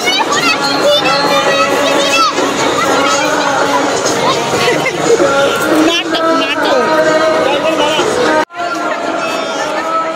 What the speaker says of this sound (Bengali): লাইটের সব জায়গায় ফোকাস, অনেক ভিড়।